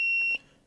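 A warning buzzer on a Yamaha Waverunner GP800 jet ski sounds as one steady, high electronic beep that stops sharply after about a third of a second, leaving faint background noise.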